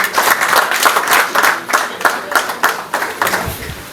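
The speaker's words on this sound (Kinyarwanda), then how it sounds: "Amashyi ku murenge wa Gacurabwenge." A crowd applauding at a community Umuganura harvest gathering, loud clapping from many people close by, at first dense and then thinning into looser, more separate claps as it winds down.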